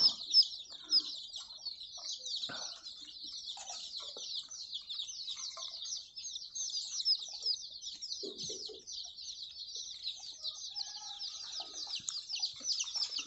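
A flock of young chicks keeps up a continuous high-pitched chorus of chirps and peeps, fairly close, with a few faint bumps and rustles underneath.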